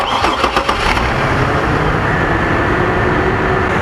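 A 1996 Ford Crown Victoria's engine cranks with a quick stuttering turnover, catches, and settles into a loud, steady rumbling idle close by.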